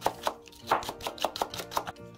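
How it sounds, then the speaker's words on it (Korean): A green onion (daepa) is sliced with a knife on a cutting board: rapid, evenly spaced chopping taps, about four per second, close and crisp with nothing else heard. "대파 한 대도 송송 썰어서 준비합니다"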